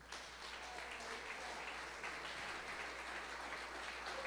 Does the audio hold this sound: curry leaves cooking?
no